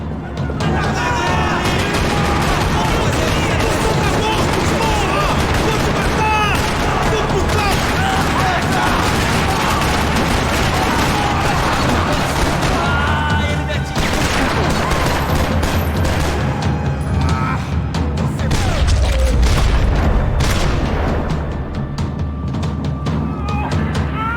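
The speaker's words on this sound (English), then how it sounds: "Another parking lot rattling with gunfire." Dense gunfire and explosions rattle through a parking lot in the video game Max Payne 3, a loud sustained barrage of rapid shots and booms with a heavy thump near the end, and voices talking amid the chaos.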